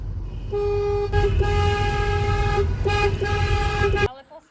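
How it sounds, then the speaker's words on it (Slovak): Car horns blaring in a village wedding procession, a loud sustained multi-tone honk holding for about three and a half seconds with brief dips, over engine rumble, then cutting off abruptly. "keď sa ide po dedine so svadbou, tak sa trúbi."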